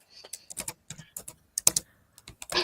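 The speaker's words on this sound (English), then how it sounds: "why is your mic so close to your keyboard" Rapid clacking of a computer keyboard typed on right beside the microphone, loud, irregular bursts of keystrokes with a few heavier thumps, no voices.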